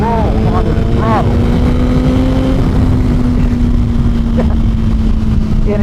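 A Suzuki GSX-R1000 motorcycle pulls steadily in 6th gear around 6,000 RPM under a gentle throttle roll-on, its engine drone constant and loud beneath heavy wind rush, with a few brief tonal chirps over it.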